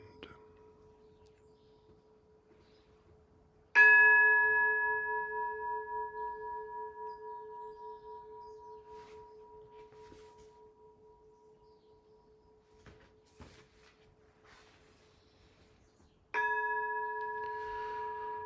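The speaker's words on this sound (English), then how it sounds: "The sound of the temple bell." A deep temple bell is struck twice, each tone ringing out and slowly fading with a pulsing hum in a quiet space.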